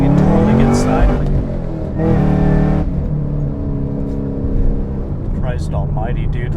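A loud 2013 Chevrolet Camaro ZL1 with about 130K miles revs and drives hard as its tires squeal, the engine droning close and heavy throughout, with voices and shouts over the noise.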